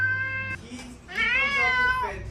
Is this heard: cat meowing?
yes